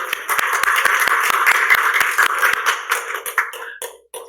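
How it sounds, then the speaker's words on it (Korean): A small church congregation at a Wednesday service in New Jersey claps to welcome a returning member, a lively burst of clear individual claps over a warm room sound that thins out and fades near the end. "박수 한번 쳐드릴까요?"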